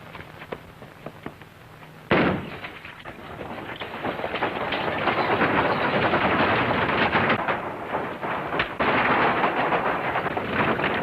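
Rifle gunfire in an old western film: a sudden loud shot sets off a long, dense volley of rapid cracks and rumble that stays close and loud to the end, with no talking.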